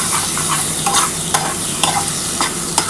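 Chopped tomato stir-fried with spices in a pan for a Bengali katla fish curry, a steady oily sizzle with intermittent scraping and stirring clatter, close and alone without talk.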